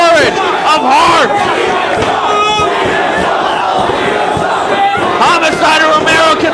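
A wrestling crowd in Dayton roars and cheers loudly and continuously at a live event, a dense wall of voices with shouted bursts throughout.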